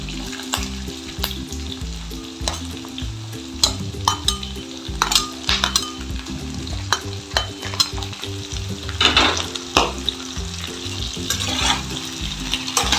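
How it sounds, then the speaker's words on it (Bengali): Pointed gourd and pumpkin frying in a pan, a steady close sizzle broken by repeated stirring scrapes and clinks of a spatula against the metal, with no talking. "এবার একটু ভালো করে ভেজে নেব"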